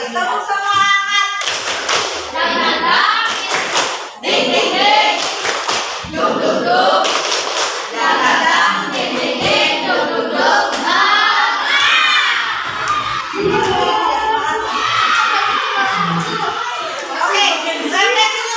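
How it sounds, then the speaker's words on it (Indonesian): Sixth-grade schoolchildren in a classroom run through a rhythmic clapping chant, sharp clustered claps early on, then mostly loud excited group shouting and chanting voices close by. "Sekali lagi, tepuk semangat."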